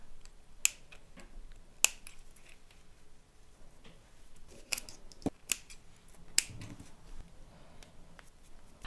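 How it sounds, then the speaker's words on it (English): Small scissors snip a thread during bead crochet work on a coin purse, a few sharp, faint clicks scattered across an otherwise quiet stretch. "And cut a thread."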